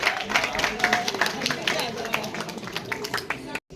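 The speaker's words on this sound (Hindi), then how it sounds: "Give it big round of applause. आप खुद के लिए ताली मार सकते हैं." An audience at a school citation ceremony claps in a dense, sustained burst of applause, many hands close and loud with crowd murmur mixed in, before cutting off abruptly near the end.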